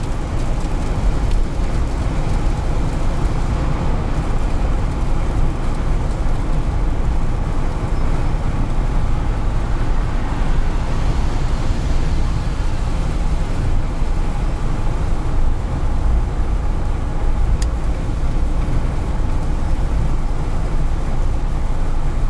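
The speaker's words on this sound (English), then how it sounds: "A little bit of road noise, nothing too bad." Steady road noise inside a 2018 Jeep Wrangler cruising at 70 mph, a constant low rumble and broadband roar that holds unchanged throughout with no talk.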